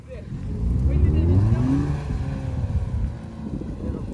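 A Suzuki Swift's engine revs hard while the car is driven offroad, a loud low growl that rises in pitch around the middle and holds steady, with people talking over it.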